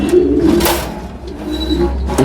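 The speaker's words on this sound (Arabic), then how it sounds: "الحمامة دي" A French meat-breed pigeon coos close by, giving soft, low, throaty calls that swell and fade over about two seconds, with no one speaking.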